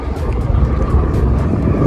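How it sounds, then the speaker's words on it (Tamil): A helicopter rumbles overhead above a seaside beach park, a steady broadband drone fairly loud throughout the short stretch, with people talking over it. "ஹெலிகாப்டர் போகுது பாருங்க."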